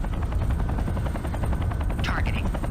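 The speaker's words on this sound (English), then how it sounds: "Those helicopters again" Helicopters in MechWarrior 3 thrum with a rapid, steady rotor chop, loud and continuous, joined near the end by a brief rising electronic whine.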